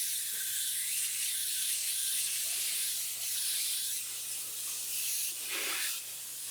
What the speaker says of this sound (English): use a hose to rinse it off thoroughly